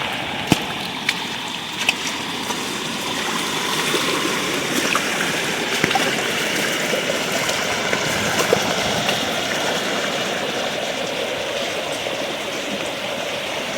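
Steady rushing of a flooded river after heavy rain fills the clip, broad and constant, with small splashes and ticks scattered throughout.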